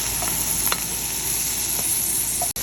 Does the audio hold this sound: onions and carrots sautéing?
yes